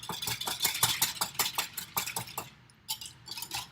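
Almond milk creamer whisked rapidly in a bowl, a fast, regular clinking and scraping rhythm that pauses briefly near the end, then resumes faintly.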